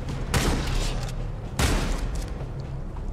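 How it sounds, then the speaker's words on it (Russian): Two loud shotgun blasts in a video game, about a second apart, each a sharp boom with a rumbling tail, over steady background noise. "На этого нужно два выстрела с дробовика, чтобы его грохнуть."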